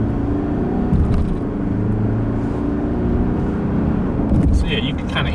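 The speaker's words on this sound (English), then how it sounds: "I'm gonna give it some throttle so you kind of hear the transmission do the shifts a little bit" A 2019 Subaru Outback accelerates under throttle as its automatic-style transmission shifts, producing a steady engine rumble from inside the car with a person talking over it.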